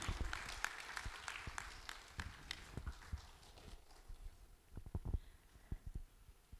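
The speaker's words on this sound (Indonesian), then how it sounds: "Boleh kita berikan tepuk tangan hadirin sekalian." A conference audience at an internet operators' event in Jakarta claps, scattered and uneven at first, then thinning to a few sparse claps that fade out.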